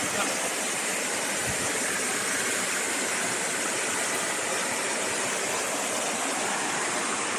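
Tongloy Falls pours as a constant, broadband roar of rushing water, loud and close, unchanging across the whole stretch with no clear voices on top.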